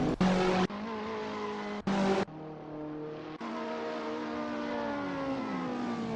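A KTM X-Bow race car spinning donuts at Vallelunga in a racing video game, its engine wailing in rising and falling harmonic tones with squealing tires, broken by a few abrupt cuts, loud and steady throughout.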